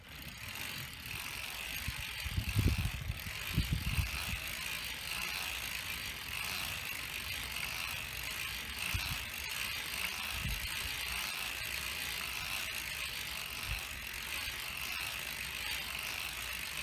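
A hand-cranked knitting machine clicks and ratchets steadily as it knits a tube, a continuous mechanical whir with a few heavier clunks early on, close and alone with no talking.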